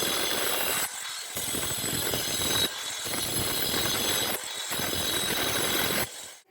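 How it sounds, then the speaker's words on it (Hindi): Angle grinder scoring short marks into a slab of granite, loud abrasive whine in several bursts separated by brief pauses, close up. "मैंने इस ग्रेनाइट के पत्थर पर इस ग्राइंडर मशीन से इस वाली से इस पर केवल थोड़े थोड़े निशान लगाए अभी"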